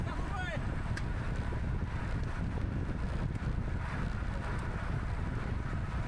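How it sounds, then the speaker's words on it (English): Headwind roaring across the microphone of a cyclist racing a criterium circuit, a constant loud buffeting rush filling the whole stretch, with a voice faintly underneath. "we've got the headwind down here"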